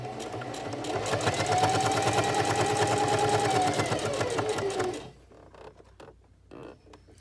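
A sewing machine stitches over elastic while making a face mask, running steadily for about five seconds with a fast rhythmic stitching whir, then stops, leaving quiet room noise.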